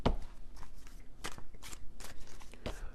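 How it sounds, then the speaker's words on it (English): A tarot card deck being shuffled by hand close up, a series of crisp papery riffles and slaps in an uneven rhythm, with no voices. "I just shuffled this deck"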